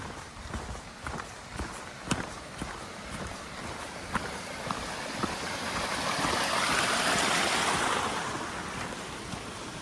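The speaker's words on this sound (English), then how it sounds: "Another little waterfall there." Small waterfall on a Scottish highland hill walk near Ben Ledi: steady rushing water with wind, overlaid by crunching footsteps that tick along throughout, swelling slightly louder toward the end.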